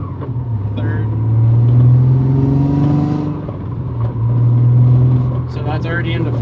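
Nissan 350Z with a new clutch and differential revving to about 3,000 RPM and shifting up through the gears, its engine note rising, dropping at each shift and climbing again, loud and close from inside the car, with people talking.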